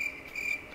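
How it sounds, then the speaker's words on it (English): A cricket chirping sound effect plays as a steady, shrill trill with slight pulsing, close and fairly loud, with no talking over it. "Don't put any cricket sound."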